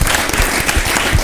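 A studio audience at a midday Malian television broadcast claps in a short, loud, dense burst of applause, heard alone.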